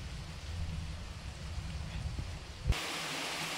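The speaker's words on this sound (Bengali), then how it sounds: "আবারও আমি বাকি চিকেনগুলো দিয়ে দিলাম তেলের মধ্যে। তো এবার আবারও ভালো করে ভেজে নিচ্ছি" Chicken pieces fry in hot oil with a soft, steady crackling sizzle like light rain, and a brief thump near the end, with no voices over it.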